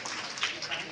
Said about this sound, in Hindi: जोरदार तालियां होनी चाहिए इनके लिए।